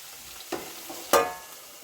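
Tomatoes tossed into a hot frying pan in a village kitchen, giving two quick sizzling bursts, a softer one followed by a louder, crackling hiss that fades out, with no talk.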